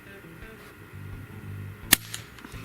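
One sharp, muffled pop from a brand-new suppressor on its first shot stands out against a low background hum, followed by a faint smaller click; a quiet, dampened gunshot rather than a loud bang.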